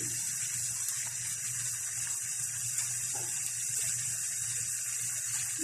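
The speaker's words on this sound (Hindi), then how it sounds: "देखें इसमें उबालने हमें शुरू हो गई है।" Water coming to a boil in a pot for qawa: a steady, close hissing and bubbling wash, constant and moderately quiet, with no voices.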